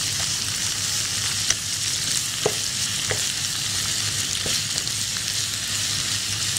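Half a kilo of minced meat frying in oil in a pan, a steady close sizzle with occasional soft stirring knocks and scrapes throughout.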